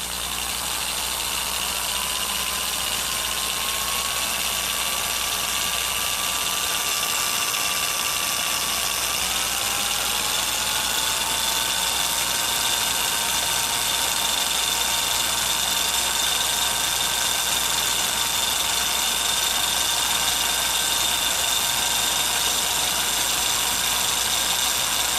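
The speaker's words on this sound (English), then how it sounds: "I reverse that drill, hold tension on the wire like this, and just start undrilling it" A power drill spins steadily to twist wire for a fused Clapton coil, making a continuous high whine. The pitch dips and shifts partway through while the drill keeps running, loud and close, with no talking.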